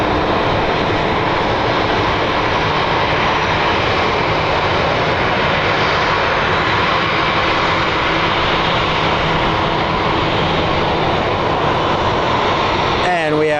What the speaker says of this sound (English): And we have liftoff of the front wheel.